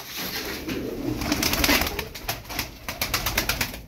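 A tumbler pigeon, a young Ankara performing bird, coos in soft repeated throaty phrases close to the microphone, with other birds calling faintly in the background.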